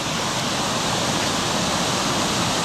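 High water of Looney Creek in Lynch, Kentucky, swollen by heavy rain, rushing under a bridge: a loud, steady, unbroken roar of flowing water with no voices.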